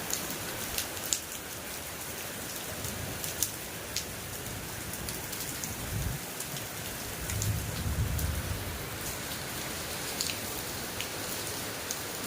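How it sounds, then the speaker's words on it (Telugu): A heavy downpour drums on surfaces in a constant wash of noise, close and loud, with sharper drop hits standing out and a low rumble swelling midway, no voices present. "చాలా భారీగా వస్తుంది వర్షము"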